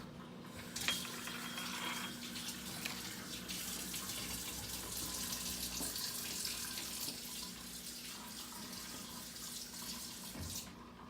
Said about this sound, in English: first I need to wash my hands because I still have some cookie dough